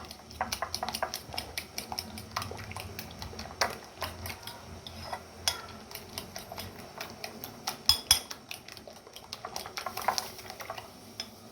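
Egg being beaten with pepper powder in a bowl: rapid, irregular clinks and taps of a utensil against the bowl, close and fairly quiet, continuing steadily with occasional sharper strikes.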